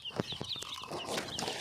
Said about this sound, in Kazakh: Так, міне ол балапандар.